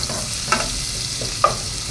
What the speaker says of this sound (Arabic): هنا نحمر التومه مع بعض.